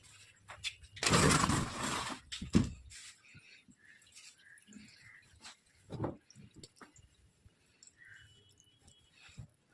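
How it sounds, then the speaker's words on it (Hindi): Water runs into a tub for washing clothes on a cold day: a loud, close gush lasting about two seconds, then quieter scattered drips and light knocks. "तो पानी देखो हो चुका है स्टार्ट इसमें"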